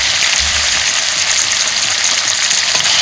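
Half a kilo of cubed chicken drops into hot oil with fried ginger and garlic, producing a soft thump and then a loud, steady, close sizzle that hisses evenly throughout.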